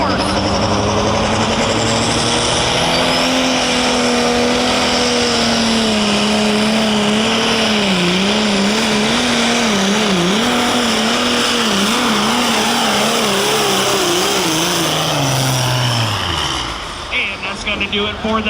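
Massey Ferguson 7720 light limited super stock tractor at an OSTPA tractor pull, a loud, sustained high-revving engine roar with wavering pitch across the run, dropping off near the end, under an announcer's voice.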